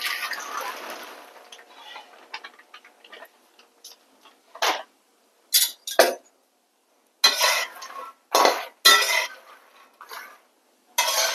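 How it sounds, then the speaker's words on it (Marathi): Fox nuts (makhana) roast in ghee in a home kitchen pan, giving soft crackles and sharp clattering bursts as they are stirred and tossed, close and intermittent with quiet gaps, no talk. "आता आपण हे मखाने भाजायला टाकूया."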